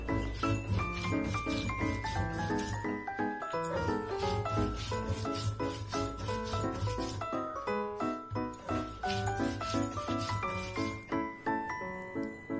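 Soaked lentils are ground by hand on a stone shil slab, a steady rhythmic rubbing and scraping of stone on stone that continues without pause, with faint clinks alongside.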